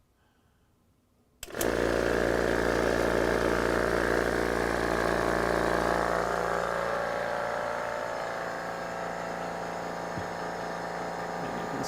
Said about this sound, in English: let me turn on a compressor